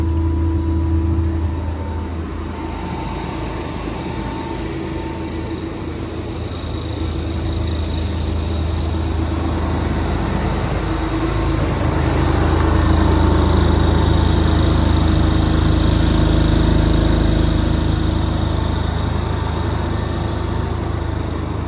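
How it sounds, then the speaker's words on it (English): Air compressor on a 2020 Kenworth T370 service truck with an IMT mechanics body, running as a steady, fairly quiet mechanical drone that swells slightly partway through, alone without voices. "Compressor's super quiet, builds air pretty quickly."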